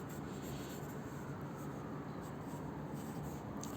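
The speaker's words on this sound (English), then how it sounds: "I'm going to start off by drawing in pencil." A pencil drawing on paper makes a continuous soft, papery scratching and rubbing sound, steady and close, with no pauses and no talking.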